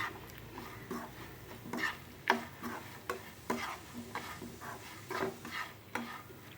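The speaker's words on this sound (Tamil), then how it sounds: "லோ ஃப்ளேம்லேயே வச்சு நல்லா ஃப்ரை ஆகிற வரைக்கும் நல்லா வறுத்துக்கிட்டே இருக்கணும்" Colocasia pieces coated in raw rice flour are stirred and fried over a low flame: soft, irregular scraping clicks from the spoon recur every half second or so over a faint sizzle, quiet and close.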